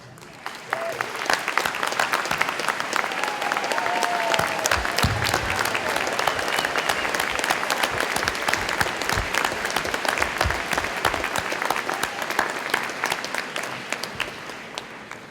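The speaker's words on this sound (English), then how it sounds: "let's give you a round of applause" A large commencement audience of graduates, families and friends applauds steadily for about fifteen seconds, a dense, loud wash of clapping from many hands with a faint crowd murmur underneath.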